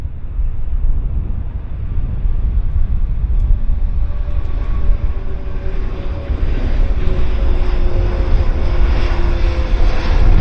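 A Star Alliance airliner taking off at Vancouver Airport, a loud, sustained engine roar heavy in low rumble with a faint rising whine, buffeted by wind on the microphone.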